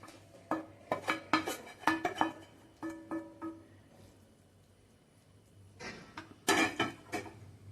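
Paneer bhurji being spooned out of a pan into a dish, with a series of clinks and scrapes of a spoon against metal and ceramic in bursts, separated by a quiet pause.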